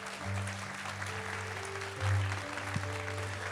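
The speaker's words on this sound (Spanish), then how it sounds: "Denle ese aplauso al Rey." Faint, steady applause from a church congregation, heard distantly beneath a low sustained hum.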